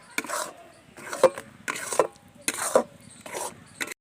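A spoon scrapes and stirs amla, Indian gooseberries, in a pan, five distinct rasping strokes with short pauses between, fairly close and clear with no talking.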